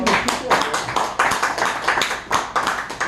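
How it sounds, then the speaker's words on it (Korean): An audience clapping hands at the end of a storytelling lecture, a dense, loud burst of applause with rhythmic pulses of group claps and voices calling out underneath. "그럼 박수 한번 치세요."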